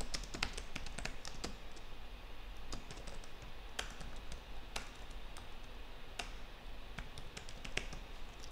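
Steady, close typing on a computer keyboard, with continuous quick key clicks and a few louder taps running throughout and no voice over them.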